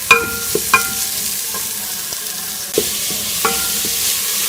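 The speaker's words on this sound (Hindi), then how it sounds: "इसके अंदर ये हम प्याज डाल देंगे और प्याज का हल्का सा बस हमें कलर चेंज करना है।" Chopped onions fry in melted fat in a pan while being stirred, a soft steady sizzle broken by a few sharp scraping and clinking strokes of a utensil.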